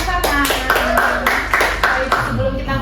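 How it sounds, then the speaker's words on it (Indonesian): Applause from a small group in an office setting welcoming a new employee at KPPN Gunung Sitoli, a burst of steady clapping lasting a few seconds, fairly close, with voices mixed in. "Mari kita sambut Joshua, tepuk tangan."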